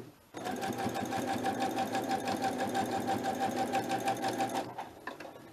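A sewing machine runs steadily for several seconds, its rapid mechanical whir and stitching rhythm close and even, then stops.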